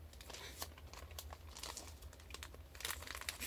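Tape crinkles and tears while a torn movie book is being taped back up, a faint, close run of rustling and crackling with no talk.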